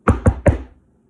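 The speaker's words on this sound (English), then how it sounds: "somebody from You knock on the door." Three quick, sharp knocks on a door, close and loud, with a brief decay afterward and no voices.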